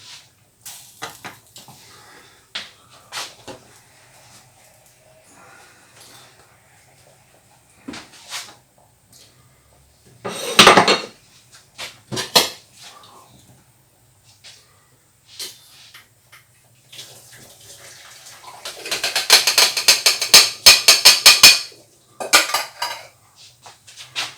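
Cooked beans are strained in a kitchen, with pots, pans and utensils clattering close by in irregular bursts, one loud clang, then a long stretch of rattling and rushing water toward the end.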